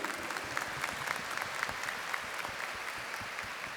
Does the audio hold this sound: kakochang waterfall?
no